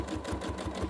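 Sewing machine stitching during free motion quilting, a fast, steady mechanical chatter with even rhythmic pulses, close and continuous throughout.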